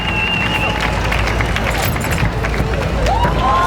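A Karate Combat arena crowd cheers and roars for a fighter's backflip, a loud, sustained wash of voices with whistles rising near the end.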